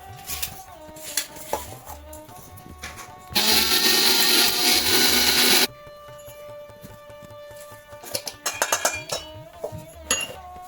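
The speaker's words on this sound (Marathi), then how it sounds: "ह्याला आपण परत एकदा मिक्सरमध्ये फिरून घेणार आहोत" A mixer grinder runs in a single loud, steady burst of about two seconds, grinding dried flower offerings for homemade incense. Quieter kitchen clatter and taps come before and after.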